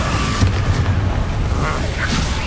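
Confringo blasting spells from the Hogwarts Legacy video game go off as a loud, rumbling boom with muffled bursts, thick with battle noise and no clear speech.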